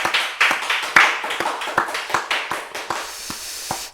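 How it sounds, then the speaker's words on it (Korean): Church congregation clapping during a Friday night worship and prayer service, a run of sharp, fairly even hand claps in steady rhythm that thin out and soften toward the end. "자, 우리 하나님께 영광의 박수 올려드립니다."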